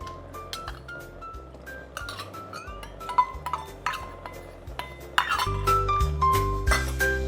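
A spoon clinks repeatedly against a pot while vegetable soup is stirred, with irregular sharp metallic chinks and pings over soft background music, close and moderately loud throughout.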